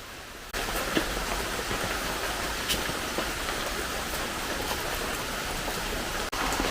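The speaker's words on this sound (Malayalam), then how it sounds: "ഇന്നും രാവിലെ മഴയാണ്" Steady morning rain falls in a dense, even hiss of drops on surfaces, loud and continuous throughout, with one brief dip near the end and no voices.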